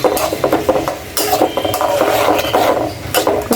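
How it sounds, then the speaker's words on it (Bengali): Spices tempering in hot oil in a pan for a dish of taro leaves, a continuous close sizzle and crackle with scattered sharp pops and a few utensil scrapes, no talking. "কচু শাকের ফোড়ন হচ্ছে।"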